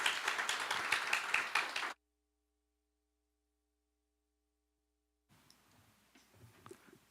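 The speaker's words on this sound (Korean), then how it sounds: "큰 박수 주시기 바랍니다." An audience at a teacher education forum claps to welcome a keynote speaker: a lively burst of applause lasts about two seconds, cuts abruptly to silence, then faint scattered taps and room noise follow.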